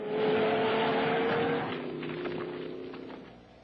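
Truck engine roaring through a wild ride in a 1980s Hollywood science-fiction film scene, loud and steady at first, then easing slightly and rumbling on with no voices over it.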